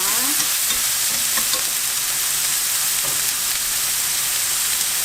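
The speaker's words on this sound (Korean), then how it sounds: "달궈진 팬에다가 식용유를 두르시고요. 양파" Onion frying in hot cooking oil in a preheated pan, a loud, steady sizzle and crackle that fills the whole stretch with no voices.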